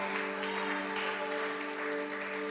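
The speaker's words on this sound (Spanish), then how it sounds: "Fuerte aplauso al Rey." A church congregation gives a loud round of applause, an even, continuous clatter of clapping layered over steady held musical tones, brief and unbroken.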